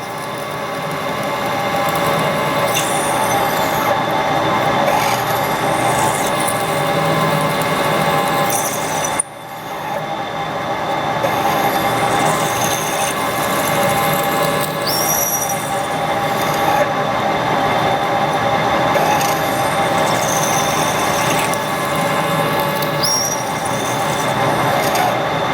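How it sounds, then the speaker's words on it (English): A Kearney and Trecker machine drills a motor bushing to the 7/16-20 tap drill size, giving a steady, loud metallic grind with recurring high squeals, one brief drop in the middle, and no speech. "Going to rough it with the tap drill size for the thread, which is 7/16 20."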